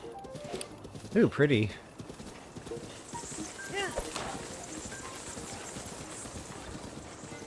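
Horse hooves clip-clopping in the video game The Legend of Zelda: Breath of the Wild, a brief burst of hoofbeats in a forest setting followed by softer steps, with a person speaking briefly over it.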